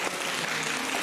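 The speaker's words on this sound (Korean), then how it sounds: "우리 박수." A church congregation at a Sunday service claps in a brief, dense burst of applause that fills the whole moment without any voices.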